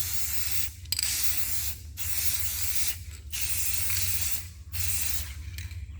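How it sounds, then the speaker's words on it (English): An aerosol can sprays in long hissing bursts, about five of them separated by brief pauses, loud and close. "Spray it on. Just this simple."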